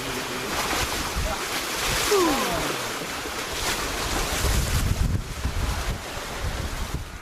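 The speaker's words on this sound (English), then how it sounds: "I'm sitting here bobbing around on the sea" Wind roars steadily across a microphone at sea aboard a small bobbing boat near Mellish Reef, with waves sloshing against the hull and a faint gliding whistle partway through, all fairly loud and continuous.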